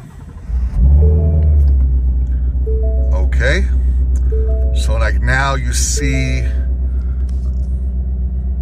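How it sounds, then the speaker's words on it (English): A Shelby GT350 engine cranks and fires at close range, catching into a deep, loud, steady idle rumble that continues throughout while someone talks over it. "I'm gonna start the car up."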